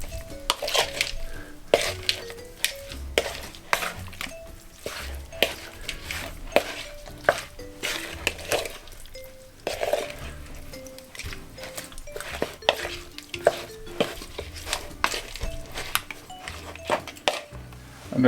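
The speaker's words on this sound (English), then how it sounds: "I'm going to give it a little stir." Chili flakes, cumin and pimento seeds are stirred in a pot for Jamaican brown stew beef, giving irregular scraping and clinking of a utensil against the pot with faint sizzling between strokes.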